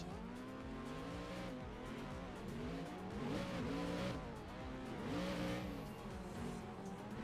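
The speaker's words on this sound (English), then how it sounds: "The terrible V8 engine it has." A V8-engined Nissan S13 drifts in a racing video game, the engine droning and revving steadily with wavering pitch and tire squeal, a continuous mid-loud roar with no pauses.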